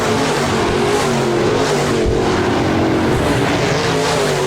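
Modified race cars roaring around the dirt oval at Park Jefferson Speedway, a loud, dense wall of engine noise with rising and falling revs as several cars run close together, no speech.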